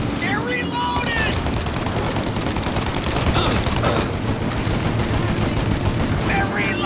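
Gunfire rattles in a Mafia Definitive Edition shootout: dense bursts of automatic and repeated shots, close and loud, with brief shouted voices over the firing.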